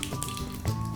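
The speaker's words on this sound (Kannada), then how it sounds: "ಈಗ ಸಾಸಿವೆ ಚಿಟುಗುಡ್ತಾ ಇದೆ." Mustard seeds and asafoetida spluttering in hot oil for a tempering, with sparse irregular pops and crackles close by, no one speaking.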